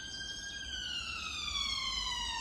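Emergency siren wailing past in a steady electronic tone, slowly dropping in pitch as it moves by, at moderate distance with faint street rumble beneath and no talking.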